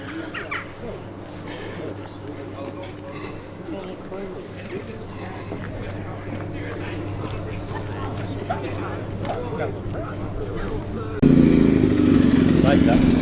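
At a New Year's Day car gathering outside a pub, an engine burbles at idle with a low, uneven throb, ending in a louder rising rev, while people talk nearby and a bird calls faintly.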